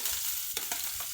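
Chopped onion fried in hot oil for an okra dish gives a brief, close hiss of frying, with a couple of quick stirring knocks and no speech.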